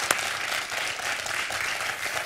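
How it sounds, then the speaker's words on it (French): A studio audience on the French TV quiz show Questions pour un Champion applauds briefly, a steady, moderately loud patter of many hands lasting about two seconds. "3 points, Pierrick, ça s'applaudit."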